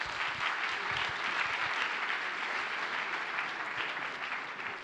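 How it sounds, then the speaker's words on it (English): An audience in Brussels applauds at a European employment and social conference, a sustained wash of clapping from many hands that holds steady for about five seconds. "the cue for you to start is an enormous Brussels applause we're sending to you over the"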